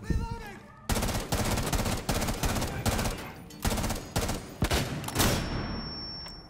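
Rapid gunfire in Rainbow Six Siege, loud, repeated bursts of shots crackling back to back across the whole stretch, with a brief lull at the start and a faint high tone near the end.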